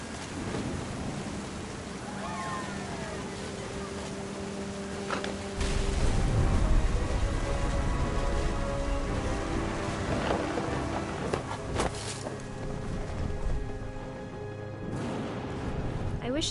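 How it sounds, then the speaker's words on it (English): Thunderstorm with steady rain from the game What Remains of Edith Finch, a continuous wash of rainfall broken by a heavy rolling thunder rumble midway and further crashes later, with a voice speaking over it. "Thunder sounded much too close and full of angry power."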